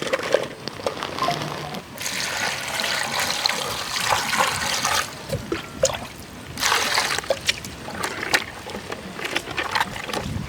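Tap water runs and splashes as brinjals are washed in a kitchen, with loud gushing bursts that stop and start several times amid handling noises, no talk.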